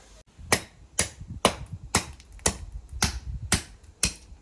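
A spring-steel knife chops through cucumber in a steady series of about eight sharp, evenly spaced cuts, each a crisp close thwack on the board with no talking.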